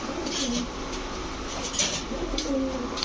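Pigeons in a loft with Giribaz racing and fancy breeds coo in soft, low calls, a few drawn-out coos rising over steady background noise and faint chirps.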